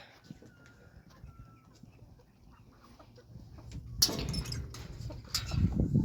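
A rooster clucks and calls close by, with bursts of louder crowing and flapping near the end over a quiet farmyard background.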